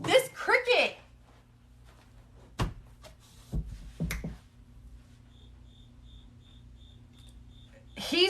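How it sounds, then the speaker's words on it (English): A very loud cricket chirps in a regular, evenly spaced pulsing pattern, close and persistent, with a faint steady hum beneath and a person talking at the start and end. "Look, you hear this cricket. Loud as a whistle."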